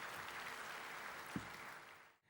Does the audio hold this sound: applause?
yes